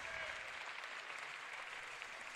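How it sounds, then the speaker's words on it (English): Crowd applauding at a men's college basketball game as a senior player exits the floor, a steady ovation of clapping sustained throughout at moderate distance in the gym. "And Jake Alexander will exit the floor to a nice ovation"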